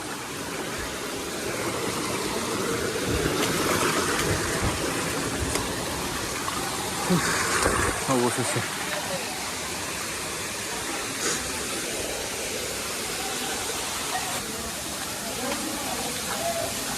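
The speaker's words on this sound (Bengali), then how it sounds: "এটা হচ্ছে চতুর্থ ঝর্ণা," The fourth waterfall at Napittachora in Sitakunda roars as a steady broadband wash throughout, with someone speaking over it now and then.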